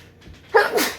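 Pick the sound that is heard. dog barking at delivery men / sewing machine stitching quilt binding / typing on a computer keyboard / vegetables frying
dog barking at delivery men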